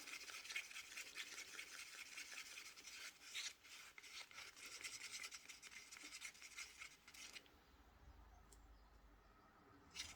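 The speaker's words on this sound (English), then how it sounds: "Right, let's stir." Continuous rasping, scraping strokes from stirring inside a container, close and fairly steady for most of the clip before dropping to quieter handling with a faint low rumble near the end.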